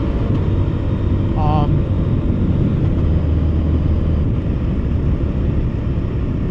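A Husqvarna Norden 901 motorcycle engine roars steadily under acceleration as the front tire lifts, with continuous wind rush over the rider's microphone and a voice speaking over it.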